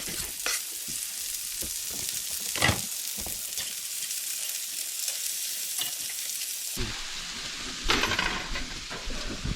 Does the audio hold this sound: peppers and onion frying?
yes